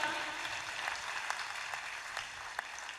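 Applause from an audience at a Hindi comedy poetry gathering honoring a poet, a steady, fairly faint wash of clapping with a few sharper individual claps standing out.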